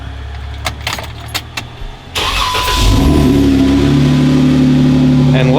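Car keys jangle in several sharp bursts, close and loud, then the car's engine cranks and starts, settling into a steady idle hum with a faint whine.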